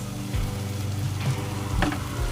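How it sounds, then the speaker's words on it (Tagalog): Water poured into a hot pot for fish head sinigang sets off a steady, close sizzle and bubbling that runs for a couple of seconds with no talking. "Maglagay na tayo ng tubig"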